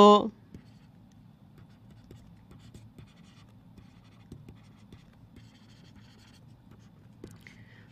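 Chalk or a marker writes on a board in a classroom lesson, giving faint, rapid scratching strokes and light taps over a quiet room, with a brief louder sound at the very start.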